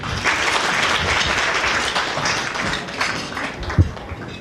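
Conference audience at Cisco Connect Philippines 2014 applauds to welcome a speaker, a full, continuous round of clapping with a single sharp thump near the end.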